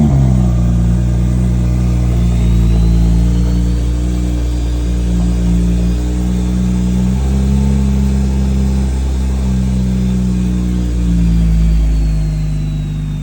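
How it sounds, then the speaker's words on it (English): A big-turbo Toyota Supra engine holds a loud, close rumble for about thirteen seconds, swelling and easing through a few mild revs with a faint whistle riding above it. There is no speech. "All right, guys, so we got a big turbo Supra here."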